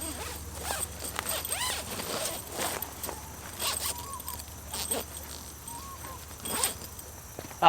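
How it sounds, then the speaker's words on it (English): YKK zipper on a jungle hammock being drawn in several quick, close zips with short pauses between them, outdoors against a soft background hum. "All YKK zips."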